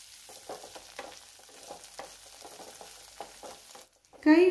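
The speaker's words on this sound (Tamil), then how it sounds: "மீடியம் ஃப்ளேமில் வச்சுட்டு இந்த வெண்டைக்காய் வதக்கி விட்டுக்கலாம்" Okra sautéing in oil over a medium flame for a tamarind okra curry: a steady soft sizzle broken by repeated scraping stirs, ending in a brief louder tonal sound.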